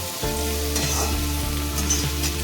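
Mushrooms frying in hot oil until crispy for a dhaba-style mushroom masala, a close, steady sizzle starting abruptly, with a low hum beneath and a few light stirring clinks, no talk.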